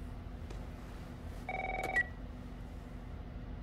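A short burst of phone dialing in the video game The Last of Us, a few faint electronic tones over a quiet background hum.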